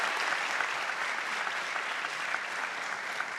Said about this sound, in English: Good to see applause from both sides, but keep it down.